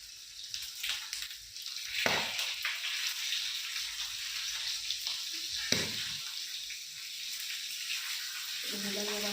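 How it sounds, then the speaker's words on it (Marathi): Fish marinated in turmeric, salt, lemon and masala hits a hot pan and sizzles softly and steadily, with a couple of sharper spits and clatters. It stays fairly faint and close, and a voice comes in briefly near the end. "आणि आता मी फ्राय करायला घेतले."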